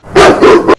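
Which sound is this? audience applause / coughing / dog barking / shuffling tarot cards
dog barking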